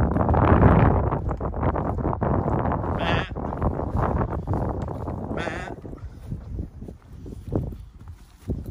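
Sheep bleat in a field near Asthall in the West Oxfordshire Cotswolds, several loud calls at first that thin out and fade, with light wind noise behind.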